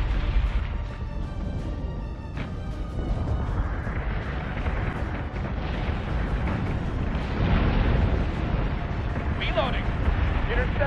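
Warship guns fire in the space combat game Battlestar Galactica Deadlock, heavy booming bursts rolling over a dense rumbling battle din while a voice calls out orders.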